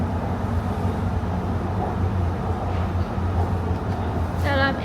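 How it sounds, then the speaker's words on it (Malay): Steady low rumble and hum inside a moving MRT train in Malaysia, continuous and fairly loud throughout, with a brief rising electronic tone near the end. "Dalam MRT."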